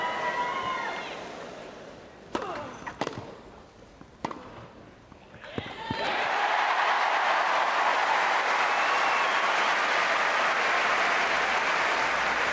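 Wimbledon tennis crowd during a 2008 fourth-round match, with scattered claps and murmurs that break into sustained, loud, dense applause filling the second half.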